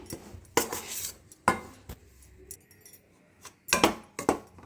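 A spoon scraping and clinking against a pan while sattu powder is stirred into ghee, irregular metallic knocks and scrapes in short clusters, close and fairly loud with no talk.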